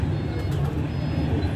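A flock of koels calling, faint overlapping cries above a steady low background rumble.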